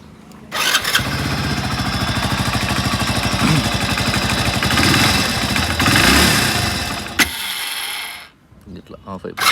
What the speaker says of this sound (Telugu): ఆన్ చేసి చూపిస్తా, బండి స్టార్ట్ చేసి చూపిస్తా.